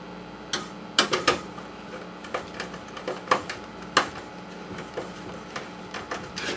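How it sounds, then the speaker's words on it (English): Screws are driven into the case of a Dell XPS 8700 desktop PC, a close run of sharp clicks and ratcheting taps in irregular bursts, with no one talking. "Put a couple of screws in here."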